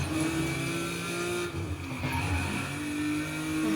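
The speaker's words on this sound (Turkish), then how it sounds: "Arabanın hızı yeterli." Modified car racing in Need for Speed on PlayStation: a steady, loud engine drone with shifting pitch as the car accelerates, plus brief tire squeals, continuous throughout with no talk.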